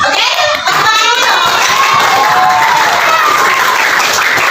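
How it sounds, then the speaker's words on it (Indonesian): A classroom full of students clapping loudly and continuously, mixed with excited shouts and chatter from the young crowd. "Tepuk tangan dulu."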